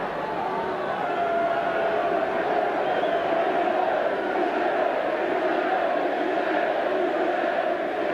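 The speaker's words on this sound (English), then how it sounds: "The crowd seem to be wanting Mark Hughes on" A football stadium crowd roars and shouts for a player during a 1990 European Cup Winners' Cup match between Manchester United and Pécsi Mecsek, a dense, steady wall of distant voices that holds throughout.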